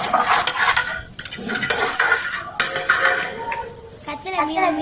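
Bulk quail biryani stirred in a large pot at home, with a metal ladle clanking and scraping against the sides in an irregular rhythm while someone talks over it.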